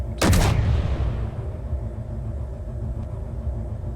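A single booming discharge from a heavy-recoil weapon in the video game Space Engineers, a sharp loud blast that fades into a low rumbling hum with no voices.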